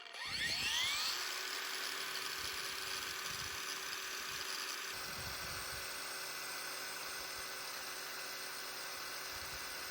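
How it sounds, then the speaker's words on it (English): Two Parkside flathead angle grinders, one newer and one older model, run steadily with no load, giving a continuous high whine that spins up at the start and then holds level and close. "Let's see what the angle grinders have to say about that."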